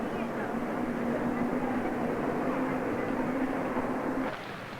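Moscow subway train, a steady rumbling roar with a sustained tonal whine, loud and unbroken until a shift near the end.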